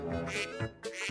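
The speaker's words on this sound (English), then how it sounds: "duck," Two short, nasal duck quacks sound in quick succession, close and moderately loud, with a toy-like, animated quality set among a sequence of animal sounds.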